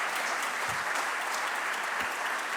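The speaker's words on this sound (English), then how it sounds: "So please give them a round of applause." An audience at an attorney general's immigration enforcement event gives a round of applause, a steady wash of clapping from a crowd, moderately distant and continuous throughout.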